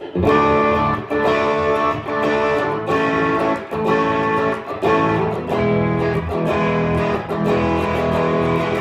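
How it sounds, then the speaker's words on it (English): A Squier Affinity Telecaster electric guitar on the neck pickup, with a mildly overdriven crunch tone and no reverb, strums chords in a steady rhythm, dry and close, with short gaps between strums. "Now I'll play it through a little bit of a crunch tone with no reverb on"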